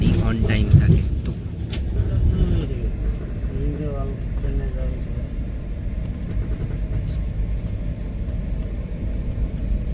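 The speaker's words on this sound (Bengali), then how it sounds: "ট্রেন আসামের মধ্যে দিয়ে দৌড়াচ্ছে।" Saraighat Express train running through Assam, a steady low rumble of wheels and carriage noise throughout, close and continuous, with voices talking over it in the first few seconds.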